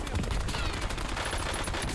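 Rapid gunfire crackles without pause through a first-person shooter match in Résurgence mode, dense overlapping bursts like automatic weapons and a fusillade, loud and close throughout.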